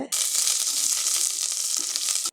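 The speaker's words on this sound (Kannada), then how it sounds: "ಈಗ ಒಗ್ಗರಣೆ ಸೊಪ್ಪು ಕಾಯ್ತಾ ಇದೆ" Loud, dense sizzling of curry leaves frying in hot oil, a continuous crackling hiss that stops abruptly.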